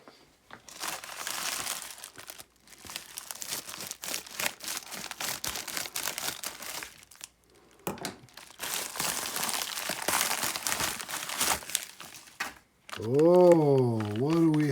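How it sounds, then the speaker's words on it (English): A white padded mailer envelope is torn and opened by hand, with long stretches of loud crinkling and crunching paper and plastic, a brief pause midway, then a different pitched warbling sound at the end. "it's a white padded envelope. So let's open it up."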